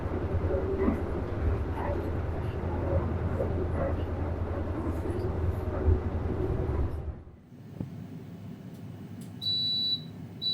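Onboard the economy class carriage of a Gumarang New Generation stainless steel train, a steady loud rumble of the running train fills the first seven seconds, then fades to a quieter interior with a faint high electronic beep near the end.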